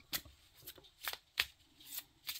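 A small tarot deck is shuffled softly and close up, giving a series of brief riffling bursts at irregular intervals, faint and with no talking.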